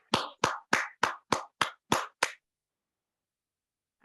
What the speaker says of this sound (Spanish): Un aplauso para Bernardo. Un aplauso para ustedes.